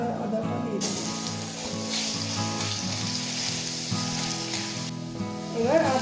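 Ginger sizzling steadily in hot oil with dried red chillies and bay leaves for a khichuri meal, a close continuous frying hiss with music playing underneath throughout.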